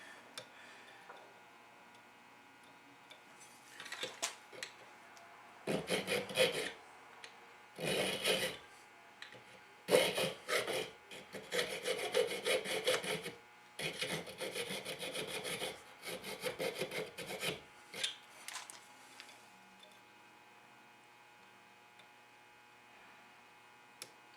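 A hand file cuts a small notch step into a pan in several separate bursts of rasping strokes, each lasting a second or two with short pauses between, close and moderately loud over a low background hum.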